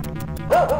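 Dog barks in the arcade game Bad Dudes Vs Dragon Ninja, two short yelping barks near the end, loud over game music and effects.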